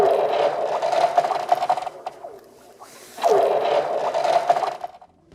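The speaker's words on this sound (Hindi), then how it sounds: "ये बताना मुश्किल हो गया कि ये बर्फ की आवाज है या स्टार वॉर्स का साउंड ट्रैक।" Cracking ice on frozen Gun Lake, British Columbia, sings with eerie swooping, laser-like tones over a scraping, rattling wash that swells, fades briefly, then rises again.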